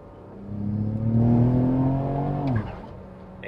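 A BMW E92 335i with an N54 engine running flex fuel accelerates hard, its harmonic engine note climbing steadily in pitch and loudness as it pulls through the power band, then dropping sharply at a shift, heard close from inside.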